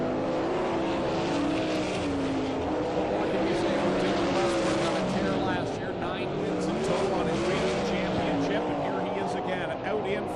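360 sprint race cars roaring around a dirt track, a loud continuous engine drone with rising and falling pitch as cars pass, heard under a race announcer's commentary.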